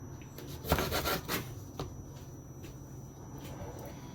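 A knife cuts through a frozen aloe vera leaf with a cluster of scraping, crunchy slicing strokes near the start, followed by a few fainter cuts and scrapes.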